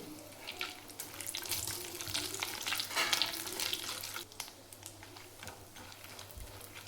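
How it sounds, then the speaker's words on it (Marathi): Cardamom, cloves and dry fruits roasting in ghee in a pan, a soft continuous sizzle with light stirring scrapes and faint crackling, fairly quiet and without talk. "विलायची, ड्रायफ्रूट टाकायचे. तुपामध्ये छान असे भाजून घ्यायचे."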